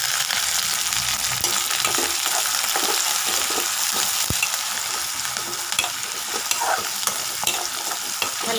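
Onion and curry leaves sautéing in a hot pan, a loud, dense, continuous sizzle with scattered crackles and the scrape of stirring, no voices.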